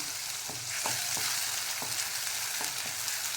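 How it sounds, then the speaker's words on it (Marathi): Masala with green chili, garlic, cumin and tomato sizzles steadily in a pan, with several sharp stirring scrapes. "आपला मसाला फ्राय झालेला आहे"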